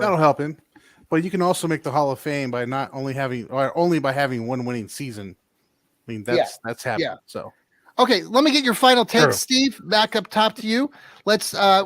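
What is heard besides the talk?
None of the usual background noises is heard.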